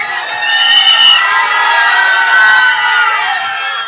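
At the Tere Ishk Mein trailer launch, a large audience cheers and shouts for Dhanush, loud sustained whoops and screams filling the hall.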